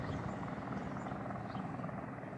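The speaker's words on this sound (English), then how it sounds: "We got two Border Patrol choppers." A Border Patrol helicopter flies near a home in desert country, its rotor a faint, steady, distant drone with no other sound.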